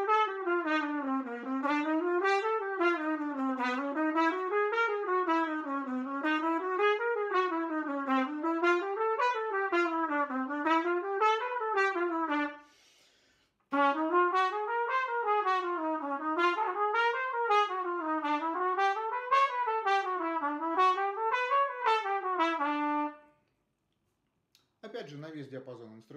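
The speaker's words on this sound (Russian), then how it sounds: "На трубе это будет звучать так." Jazz trumpet improvising a phrase with repeated rising and falling runs in a steady rhythm, clear and close, with one brief pause midway. A voice speaks briefly at the very end.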